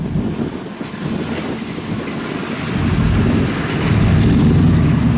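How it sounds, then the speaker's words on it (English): A 1966 Chevrolet C10 shortbox pickup truck idles and revs, its exhaust giving a deep, rumbling drone close by that swells louder toward the end. "Sounds real good off the exhaust."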